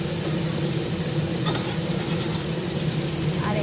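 Cut potato pieces frying in hot oil for a vegetarian Bengali home meal, a loud, continuous close-up sizzle with occasional soft clicks from stirring in the pan.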